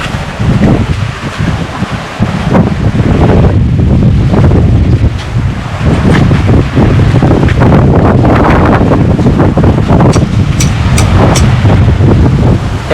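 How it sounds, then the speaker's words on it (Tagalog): Powerful typhoon wind, without rain, roars and buffets the microphone in heavy, continuous gusts, loud and rumbling, with no voices. "Bagyo, walang dalang ulan, naubos na yata."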